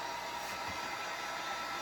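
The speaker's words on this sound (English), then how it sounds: "so we take a heat gun" A heat gun runs steadily with an even, airy whir, used while taking apart a hockey goalie mask; the sound holds constant and fairly quiet with no talking.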